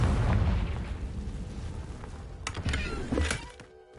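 In the video game Hogwarts Legacy, a Confringo fire spell bursts with a heavy, rumbling boom that fades out, followed by a couple of sharper crackling pops.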